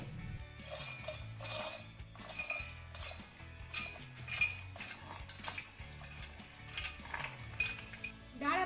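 Soaked dal being moved into a mixer jar, with quiet clinks and taps of a spoon against metal vessels in an irregular series, close and soft, no talk.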